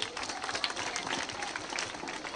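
An audience at a minister's public speech bursts into steady applause, dense overlapping clapping with a crowd murmur mixed in.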